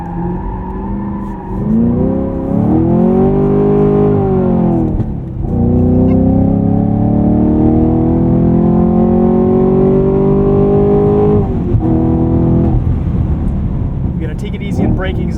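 A Chevrolet Camaro SS 1LE engine revs hard on a track and climbs through the gears, loud and close, with brief dips at each shift before the pitch rises again, rev matching on.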